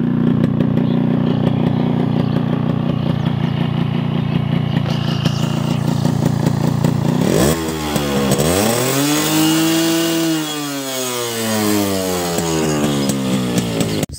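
A Yamaha RX motorcycle idling with a rough two-stroke rattle from its exhaust, then revved up sharply and held before dropping back, loud and close with no talk.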